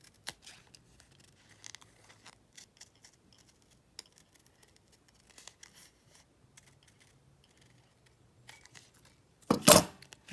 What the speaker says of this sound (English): So, we're cutting out our lid